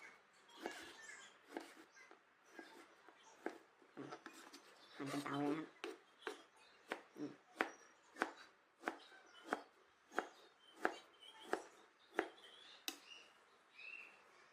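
A knife dicing mango taps rapidly against a cutting board in a steady series of sharp chops, fairly quiet, with some soft handling noises in between.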